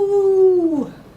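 Children imitate a coyote: a single drawn-out howl rising in a clear tone before sliding down and breaking off, loud and close with no other sound behind it.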